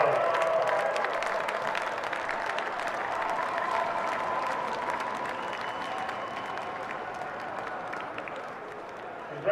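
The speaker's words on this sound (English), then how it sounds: "Can we have a round of applause for two mighty teams that played here today" A crowd at the 2022 Dunedin premier rugby final between Southern and Taieri applauds both teams, dense sustained clapping that carries on evenly for several seconds.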